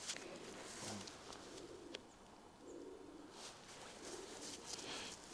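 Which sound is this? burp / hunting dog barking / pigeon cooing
pigeon cooing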